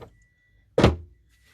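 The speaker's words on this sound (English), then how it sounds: "And let's put the drawer back in." A 10-litre dehumidifier's water tank drawer is pushed back into place with a single short thunk, alone in a quiet room.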